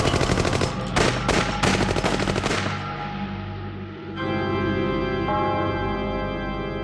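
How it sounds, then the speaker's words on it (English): Loud sustained automatic gunfire from a police ambush, with rapid bursts of overlapping shots ringing out close and heavy, then fading into a long echoing metallic ring-out. "On a signal for Purvis, every man would open fire."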